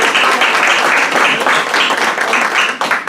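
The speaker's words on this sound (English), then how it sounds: "maybe we could just give a little clap for Mike Loria" An audience at a school board meeting claps loudly and continuously for several seconds, a dense close-up wash of hand claps that tapers slightly at the end.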